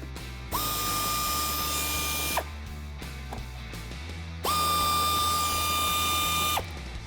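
Two bursts of whirring mechanical drive, each lasting about two seconds, come from a 10mm socket backing out factory bolts on a 2016-2019 Toyota Tacoma during a mud guard install, with clicks and handling noise between them.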